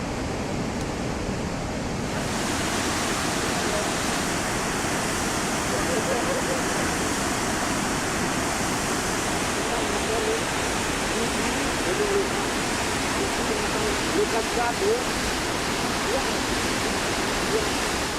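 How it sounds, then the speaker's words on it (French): Powerful waterfall in Laos, a fast and intense cascade west of an island, roaring as a steady, loud, broadband rush that fills the whole stretch without a break. "Les chutes de Liffey à l'ouest de l'île sont impressionnantes pour leur rapide et leur intensité."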